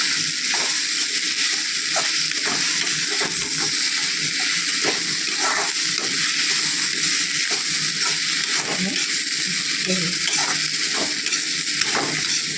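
Bottle gourd and grated coconut being sautéed together in a pan, a continuous loud sizzle with rhythmic scraping and stirring strokes throughout, close up and with no talking.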